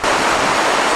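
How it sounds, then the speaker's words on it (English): A powerful 56-meter waterfall plunges into an 18-kilometer gorge, giving off a dense, steady roar of broadband rushing water that stays loud and even throughout. "The sight and sound of this powerful waterfall will not easily be forgotten."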